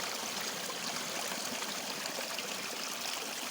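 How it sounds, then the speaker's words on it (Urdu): Water runs steadily over a series of small waterfalls, a continuous near rushing and trickling that stays loud and even throughout with no voices. "اس پانی کے بہنے کی آواز آپ سن رہے ہوں گے۔"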